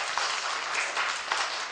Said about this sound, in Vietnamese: Mời cấp thưởng cho bạn một tràng vỗ tay thật lớn.